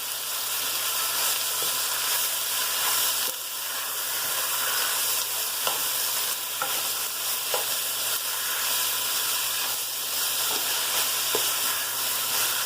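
Ground beef and potatoes fry and are stirred in oil, a dense continuous sizzle close by with occasional soft scrapes and clicks of the spoon throughout.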